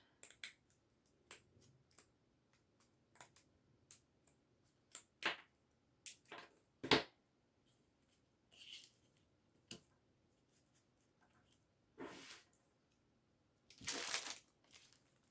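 Paper snipped with scissors while building a dimensional scrapbook layout: scattered short crisp cuts at close range, several sharper snips and a longer crinkly stretch near the end, no talk.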